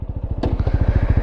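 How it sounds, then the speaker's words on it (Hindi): A motorcycle engine idles close by with a steady, fast low thud of firing pulses, loud and even throughout, with a brief clack near the middle and no voices. "तो चलो अभी चलाते हैं बाइक, इसको देते हैं बाइक"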